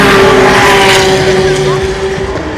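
A Porsche race car at the 2016 24 Hours of Le Mans roars past at night, a loud steady engine tone that slowly fades, with a voice talking over it.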